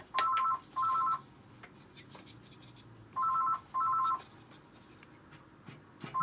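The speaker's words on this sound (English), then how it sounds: "Ignore the phone." A telephone ringing indoors: two bursts of paired double rings, a pause, then another pair, fairly clear against a quiet room with faint scratching of work in the background.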